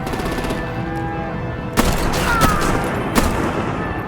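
Gunfire erupts in a Batman Telltale Series game scene: three sharp, loud shots or bursts spaced about a second apart over a dense rumbling background.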